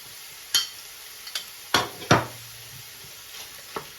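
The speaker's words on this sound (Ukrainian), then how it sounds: "грибочки в нас смажаться вже хвилин 10, і тому саме зараз ми додаємо вже до них фарш." Minced meat and mushrooms fry in a pan, with a few sharp stirring scrapes and clacks over a quiet sizzle, no voices.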